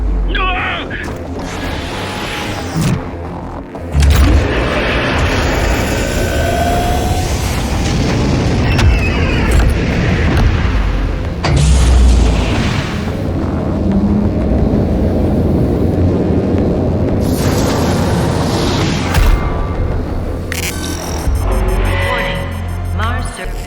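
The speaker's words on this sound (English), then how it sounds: "You can't just shoot a hole into the surface of Mars." A huge BFG 10,000 blast thunders from Doom Eternal, a sustained loud booming roar with rumbling mechanical layers and bursts, voices talking over it at times.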